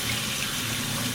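Water runs from a tap over a frozen duck being washed in a kitchen, a brief, faint, steady gush with no voices.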